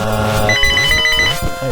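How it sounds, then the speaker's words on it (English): A phone ringtone chimes in a repeating electronic melody with bright, clean tones, loud and close over game music, lasting under two seconds. "And there goes my phone."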